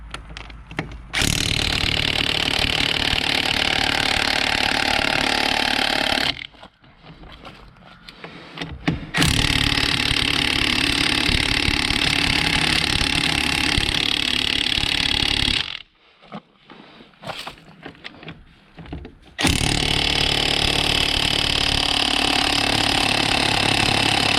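A battery-powered impact wrench hammering at stuck bolts, three long, loud rattling bursts of several seconds each, separated by short pauses filled with faint handling noise.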